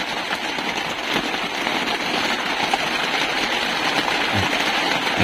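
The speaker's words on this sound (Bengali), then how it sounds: "আর বাইরে সেই হারে বৃষ্টি পড়ছে।" Heavy rain pours at night beside a Sundarbans river, a dense continuous wash of drops drumming nearby, loud and unbroken throughout.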